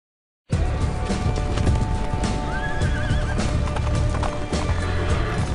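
Horse galloping and neighing as a sound effect in a Dungeons & Dragons adventure intro, with steady hoofbeats under dense wind-like noise and a whinny midway, loud and continuous after a brief silent start.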